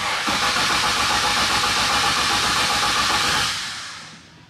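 A 900-horsepower Barra inline-six swapped into a GT350 fires up and runs with a loud, steady, hissing roar that holds for about three seconds, then fades as the idle drops.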